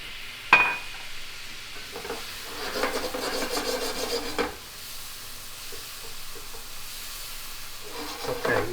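A plastic utensil scrapes and stirs through chicken in a pot with white wine, giving irregular rubbing strokes over a faint sizzle, with a sharp clink near the start and no voices.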